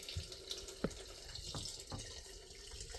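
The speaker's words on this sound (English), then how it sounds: "I run up there and I turn that on to let the rest of the water out as well" Water drains steadily from a household faucet after a Kinetico water filter replacement, a continuous rushing flow with a few faint clicks and drips over the top.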